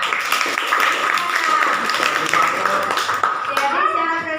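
Students in an Indonesian classroom clap their hands together, a dense, busy patter of claps from a group with voices mixed in, ending with a brief rising tone near the close.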